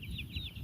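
Baby chicks on a small chicken farm peep in quick, repeated high chirps, soft and fairly close, with no talking during the brief burst.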